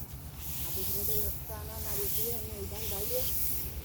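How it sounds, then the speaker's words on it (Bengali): Polao paddy being stirred in a hot pan, a continuous dry hiss and rustle of grains, with a voice talking over it throughout. "এই ধানটা এখন নাড়িয়ে দেবো।"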